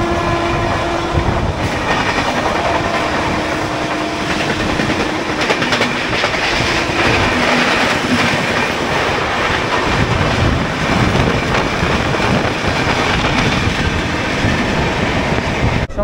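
A Howrah to Digha local train runs on rails near Mecheda, giving a loud, continuous rumble with rhythmic wheel clatter from inside the carriage throughout, and no talk over it.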